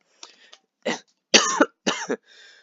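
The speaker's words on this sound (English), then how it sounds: "Been coughing a little bit." A run of four or five sharp coughs in quick bursts, close and loud, followed by a softer breathy exhale.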